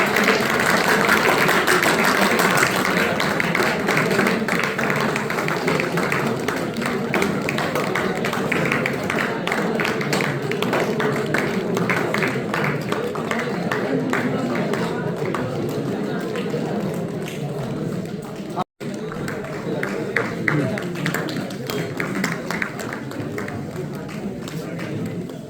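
An audience clapping at an award and talent-honouring programme in Ayodhya, a steady, dense wash of applause that continues throughout with voices mixed in.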